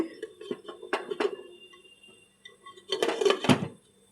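A lid set onto a cooking pot after mixing ingredients, heard as a few metallic clanks and clinks close by, with a louder cluster of knocks near the end and quiet stretches between.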